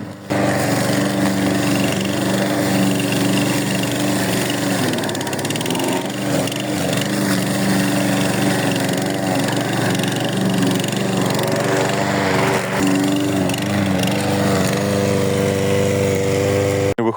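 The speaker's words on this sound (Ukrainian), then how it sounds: "Починаю косити, випробовуючи на що здатна косарка." A GRUNHELM petrol lawn mower runs steadily while mowing, its engine drone loud and close with a constant, unbroken hum throughout.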